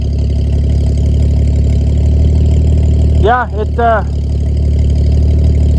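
An International Harvester L-130 truck engine idles steadily with a low, even rumble throughout, while a person briefly speaks over it partway through.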